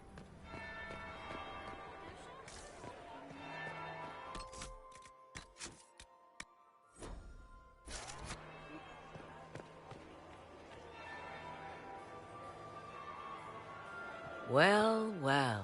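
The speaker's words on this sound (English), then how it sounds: "That would be the second bell." Church-style bell tolling in the video game Dragon Age: Inquisition, a series of resonant chimes near the end, under game music and ambience with voices talking earlier.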